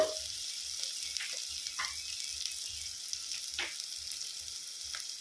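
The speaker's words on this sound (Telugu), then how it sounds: "మంచిగా అల్లం వెల్లుల్లి పేస్ట్ పచ్చివాసన పోయే వరకు వేగనివ్వాలి" Ginger garlic paste fries in hot oil for a mushroom potato gravy, giving a steady close sizzle with a few brief stirring scrapes and crackles throughout, no voices.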